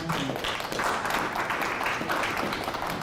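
Audience applause at a local government association election event, a steady wash of many hands clapping throughout, moderately distant, with faint voices mixed in.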